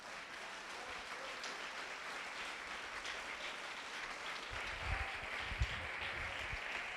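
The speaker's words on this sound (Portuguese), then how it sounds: "Aplauda o Senhor mais uma vez." A church congregation applauds during a Sunday anniversary service, a steady wash of clapping at moderate distance that holds throughout, with a few louder claps standing out near the end.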